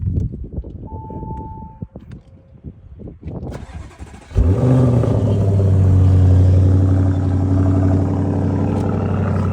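Big vehicle engine on a dusty camping trip, with a few quiet clicks and rattles before it cranks and catches into a loud, close, steady rumbling idle.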